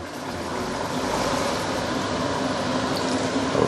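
Hot water pours steadily into a pot for fish head soup with a rushing, bubbling flow that swells slightly louder toward the end.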